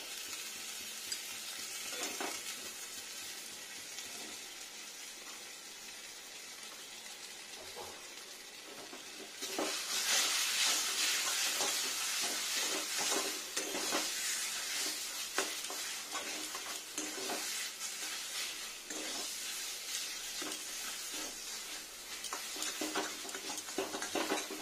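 Ghee sizzles and fries in a pan with papaya, the hiss jumping louder partway through and holding steady under occasional stirring scrapes and ticks.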